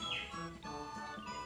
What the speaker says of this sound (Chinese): 其实现在外面有小鸟叫声